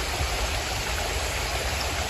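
Water pours steadily over a concrete spillway built with limestone and steel at High Park, a dense, continuous rushing roar that stays even and close for the whole stretch, with no voices.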